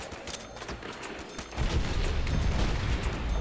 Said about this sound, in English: Blow up some barrels. Giant explosion over here.